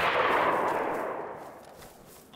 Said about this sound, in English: Shots fired at us?